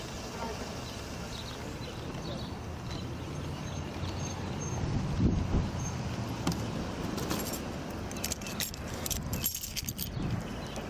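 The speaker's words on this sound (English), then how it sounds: "Where's the keys to this car?" Car keys jangle in short metallic bursts beside a vehicle during a police traffic stop, with outdoor background noise and occasional talk nearby.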